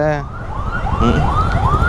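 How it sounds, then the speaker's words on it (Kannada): An ambulance siren wails in repeated rising sweeps over the steady rumble of nearby traffic. "ಆಂಬುಲೆನ್ಸ್ ಒಂದು ಬರ್ತೈತೆ ಹಿಂದೆ"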